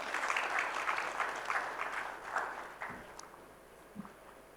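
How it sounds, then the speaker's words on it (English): Audience applause at a panel discussion on advertising policy, a burst of clapping that rises quickly then gradually fades over about four seconds, moderately loud in a hall. "Let's have a huge round of applause for Vidushi, ma'am"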